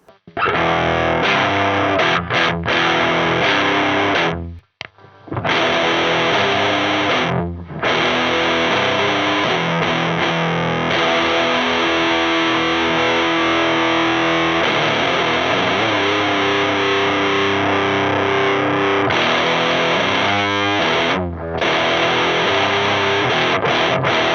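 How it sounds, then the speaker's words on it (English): A guitar is pushed through the RecHead cassette recorder pedal with its character control turned all the way up. It plays a long stretch of thick, overdriven riffs and sustained chords, loud and close, with a couple of short breaks and no talking. "And I'm going to get a more overdriven sound."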